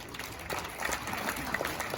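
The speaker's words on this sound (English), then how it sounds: "Let's give him a round of applause" An audience at an elite cattle sale claps to welcome Gerald Callahan, president of Express Ranches, a steady wash of applause from the room with some voices mixed in.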